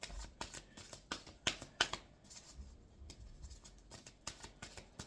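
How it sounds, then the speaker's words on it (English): Oracle cards being shuffled and pulled by hand: quiet, rapid flicking and riffling bursts in an uneven rhythm, close and soft, with no voice. "I'm going to go ahead and pull an oracle card for you quick"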